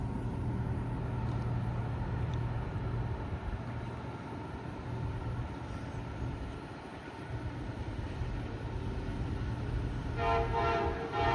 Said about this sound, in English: Oh no, this is a taconite train, I believe. The empty taconite.